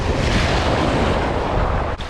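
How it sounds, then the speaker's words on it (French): Ocean waves at sea off Tenerife surge in a dense, loud wash, heavily mixed with wind buffeting the microphone. "Dès que j'ai envie d'aller dedans, il y a les vagues qui montent."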